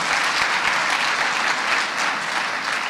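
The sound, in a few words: audience applause at conference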